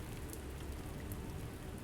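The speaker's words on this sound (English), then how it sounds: "I stare in fear when the wind and rain turn on like a switch behind her" Steady rain hisses and patters over a low rumble of wind, a dense continuous wash of noise with no voices.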